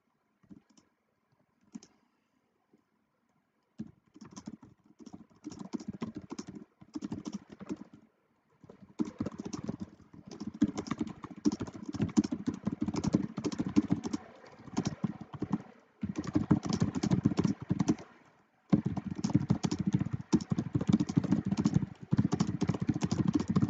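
Keys tapping on a computer keyboard at a 2024 MRE UNO D2 championship broadcast, with bursts of steady, busy clatter that pause and restart across the stretch, close and moderately loud, and no one talking.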